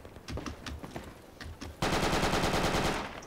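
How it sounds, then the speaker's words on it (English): Video game gunfire: faint scattered shots and clicks, then a loud, close burst of rapid automatic fire that runs steadily for over a second before easing off. "Okay, I was shot from the north side"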